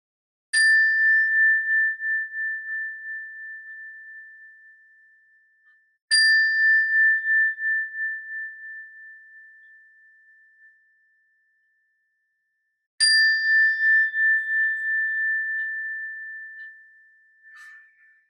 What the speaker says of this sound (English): when you hear the sound of the bell, try and listen to the bell until you can't hear it any longer